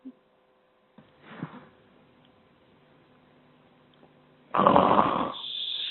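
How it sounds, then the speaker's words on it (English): A faint snoring sound effect: a soft nasal snore, then quiet, followed by a louder, rougher snorting breath near the end. "that was a snoring sound effect there"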